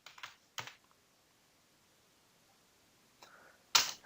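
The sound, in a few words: computer keyboard typing while writing CSS code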